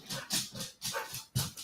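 A dog waiting to be let back into the house gives a run of short whimpering yips and soft barks in uneven bursts, fairly close and moderately quiet.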